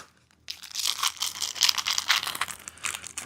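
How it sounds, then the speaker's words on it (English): Packaging around a box of bolts is cut open, giving close, loud crinkling and tearing of plastic and cardboard that starts abruptly after a brief quiet moment and continues in irregular bursts, with no voices. "so we got this box of bolts. Let's cut this free."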